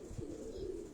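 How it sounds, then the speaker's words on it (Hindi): A pigeon gives a soft, low coo, a brief close call over quiet background. "तो ये वो कबूतर है दोस्तों"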